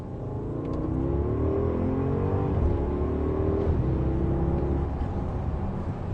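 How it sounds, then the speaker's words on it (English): A 550-horsepower 4-litre twin-turbo V8 car accelerates hard in second gear, its engine note rising steadily and loudly in a continuous, close roar. "this new engine, 4-litre twin-turbo V8, 550 horsepower, 568 pound-foot of torque"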